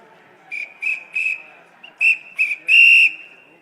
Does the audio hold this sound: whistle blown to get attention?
yes